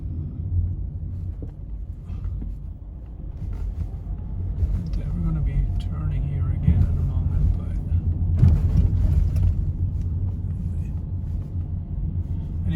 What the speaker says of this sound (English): Here I have the traditional Mexican speed bump, of course no sign.